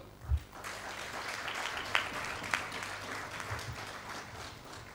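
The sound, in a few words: audience applause at trade union conference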